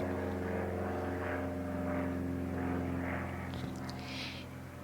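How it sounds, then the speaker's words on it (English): A propeller airplane drones steadily overhead, close and loud throughout, with a low engine hum and a slowly shifting pitch as it passes. "There's an airplane."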